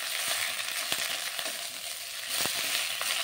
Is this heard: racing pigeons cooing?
no